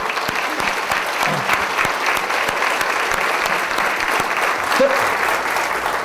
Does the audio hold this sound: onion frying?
no